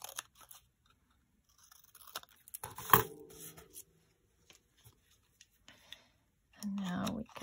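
Scissors cut a sheet of craft paper smaller while a fold-out paper pocket is being made. A sharp crunching snip comes first, followed by scattered light clicks and rustles, with a brief voice near the end.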